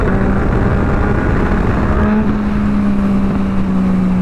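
A Yamaha MT-09 motorcycle engine holds a loud, steady high-rev drone in second gear around 7,000 rpm, its pitch rising slightly midway and then sustaining, close and continuous with no talking.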